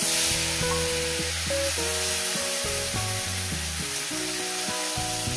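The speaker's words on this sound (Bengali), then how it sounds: "মাছগুলোকে আমি ভেজে নেব" Fish seasoned with salt and turmeric sizzles in hot oil, a continuous hiss of frying heard beneath loud background music throughout.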